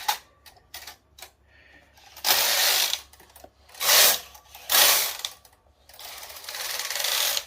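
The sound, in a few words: Brother KR230 knitting machine carriage sliding along needle bed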